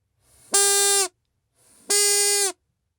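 High-pitched buzzy source tone from a vocal-tract model (VTM-S20) heard alone, before insertion into a short tube: two steady harmonic-rich tones, each about half a second long, separated by a brief pause.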